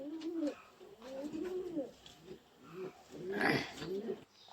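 Red wild pigeons coo softly in repeated low rounded calls on a pigeon farm, several birds overlapping at close range with faint background rustle.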